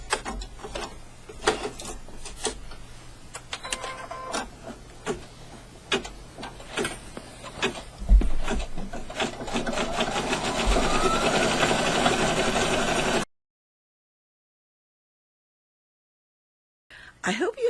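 An embroidery sewing machine stitches the final satin-stitch outline on an in-the-hoop corner bookmark, a steady rapid mechanical ticking and whirring that runs close and continuous for about thirteen seconds before cutting out.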